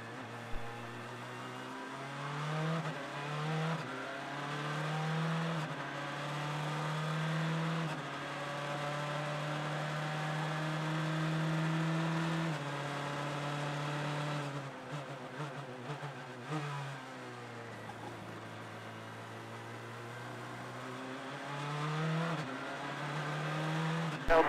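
Race cars at Mazda Raceway in the 2014 TUDOR United SportsCar Championship roar past on track with sustained engine whine, the pitch climbing and falling through gear changes in a close, continuous drone.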